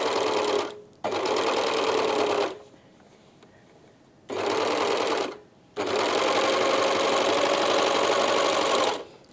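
A sewing machine stitches trouser fabric in three long runs of steady, loud motor whirring separated by short pauses, with a quieter stretch between the first and second bursts.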